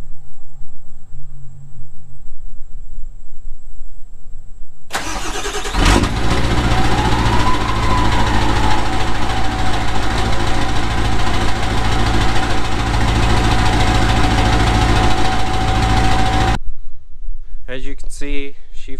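A Ford OBS Powerstroke diesel fitted with a KC 66/73 turbo cranks and fires on a cold start, then settles into a loud, steady rattling idle with turbo whine before cutting off abruptly.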